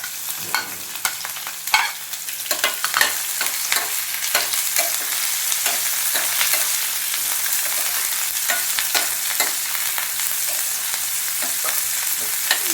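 Onion pieces, curry leaves and slit green chillies frying in a pan for an alasanda chaat, with a continuous bright sizzle and crackle and frequent spoon-stirring clicks.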